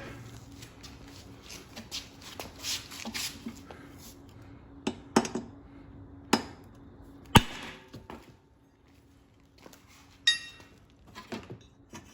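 Scattered sharp metallic taps and clinks from a 2.5-pound hammer on a 2011 Craftsman lawnmower flywheel, irregularly spaced with a few louder strikes, over a quiet background hum.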